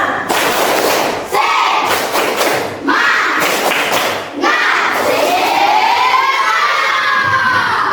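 A classroom of schoolchildren performs a 'tepuk semangat' clapping cheer, loud close bursts of rhythmic claps broken by short pauses, ending in a long chorus of excited shouting voices.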